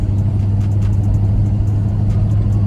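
A car with a single Flowmaster exhaust rumbles loud and close, its engine holding a deep, steady idle-to-rev drone with a throaty low tone throughout.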